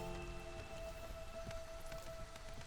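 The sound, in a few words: drizzling rain in a video game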